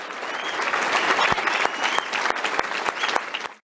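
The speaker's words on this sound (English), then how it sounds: "let's give a big round of applause to mayoral candidate Lori Lightfoot." Audience applause for a Chicago mayoral candidate fills the room with steady, dense clapping at full strength for over three seconds, then cuts off abruptly.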